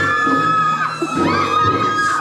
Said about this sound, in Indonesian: Jangan teriak.